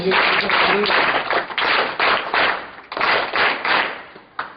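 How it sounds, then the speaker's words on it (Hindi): An audience at a quiz contest gives sainik taali, soldier-style clapping, in loud, sharp, evenly spaced claps in unison, about a dozen strikes with brief gaps between groups. "चलिए सैनिक ताली"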